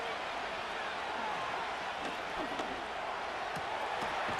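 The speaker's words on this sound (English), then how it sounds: "This crowd into it now as we get to 3rd down." Stadium crowd noise from a Madden NFL 25 football video game, a steady dense roar filling the scene with scattered faint claps and cheers as the game nears a third down late in the fourth quarter.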